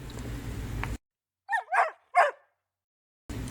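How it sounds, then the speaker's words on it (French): A dog in a read-aloud French storybook gives three quick, close barks against a silent background, set between stretches of quiet room noise. "un chien accourut avec un os en bouche"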